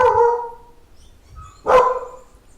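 A dog barks twice, close and loud, with a deep bark followed by a pause and then a sharper second bark.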